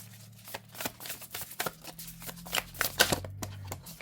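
Overhand shuffling of a cat-themed oracle deck, a run of soft papery riffles and slaps coming close and steady, with faint low hum underneath and no talking.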